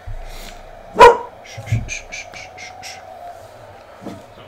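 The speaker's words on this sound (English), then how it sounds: "My dog is freaking out because the neighbor is beating on his door" A dog barks at a neighbor knocking on a door, one sharp loud bark followed by a rapid burst of quicker yelps and a later softer bark, with brief talking in the room.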